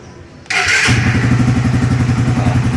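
A Suzuki R150 motorcycle engine is started with one quick click of the starter, then catches at once and settles into a loud, steady, close-up idle with an even throbbing rhythm.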